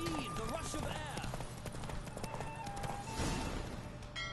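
Horse galloping in The Witcher 3 video game, steady hoofbeats with a whinny near the start, mixed under game music and ambient sound at moderate level.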